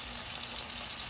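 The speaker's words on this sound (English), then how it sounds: "I'm just going to pan sear these onions with it" Yellow onions pan seared alongside marinated chuck steak, a steady close sizzle of frying throughout, with no talking.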